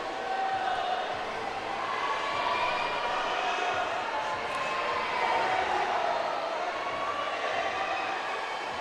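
Portuguese crowd at a U17 bouldering qualification competition in Soure, a steady, fairly distant wash of crowd noise and cheering that holds throughout without clear peaks.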